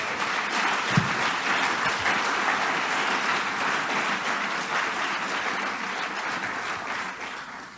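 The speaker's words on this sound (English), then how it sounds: "Let's give them all a round of applause, please." Sustained applause fills a party delegates' conference hall, many hands clapping steadily for several seconds and slowly easing off toward the end.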